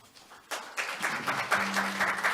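Audience applause at the opening ceremony of an international conference on new employment and labour paradigms, a steady wash of clapping rising after a short pause and continuing at a moderate level, with a faint tone underneath.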